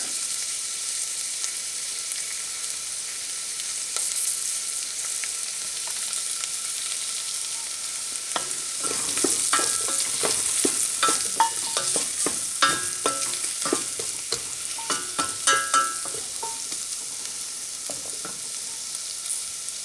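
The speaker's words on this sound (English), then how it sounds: "you want to saute them just till your onions are nice and soft" Onions sauteing in a pan for a Spanish rice and lentil dish give a steady close sizzle, with a burst of spoon scrapes and clatter over the second half; no one speaks.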